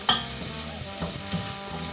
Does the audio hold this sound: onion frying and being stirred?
yes